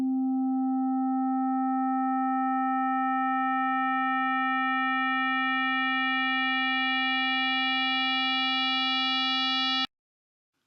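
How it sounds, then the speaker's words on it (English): An FM-synthesized tone built to resemble a clarinet holds one steady pitch for about ten seconds, its overtones slowly brightening as the sound grows richer, then it cuts off abruptly into silence. "you should hear something maybe characteristic of a clarinet sound"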